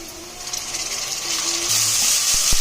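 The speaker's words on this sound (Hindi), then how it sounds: "प्याज को हमने इतना फ्राई करना है कि लाइट गोल्डन कलर के हो जाएं।" Onions with ginger garlic paste sizzle steadily in a pan, a continuous close frying hiss with a few faint clinks toward the end.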